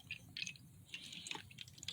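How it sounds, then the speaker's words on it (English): Water is poured in small amounts into a mixture, with faint, quiet drips and trickles and no voices. "Now you're going to put in 4 ounces of water"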